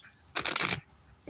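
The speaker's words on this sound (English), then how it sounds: "a little cleansing shuffle just to clean out" A deck of gold foil tarot cards being shuffled in a single brisk burst of riffling and flapping that lasts under half a second, close and fairly loud, with near silence before and after.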